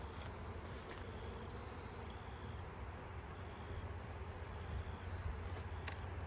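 Bees buzz around a beehive during a mid-September inspection, making a faint, steady, dense drone with no talk.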